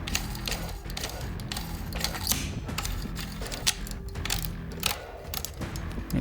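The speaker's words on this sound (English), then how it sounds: "And put your knurling nut back on." A knurling nut is screwed back onto the barrel of a GForce Arms Refuge hunting shotgun during reassembly, giving close, continuous metallic clicking and ratcheting rattles with small irregular peaks and no talk.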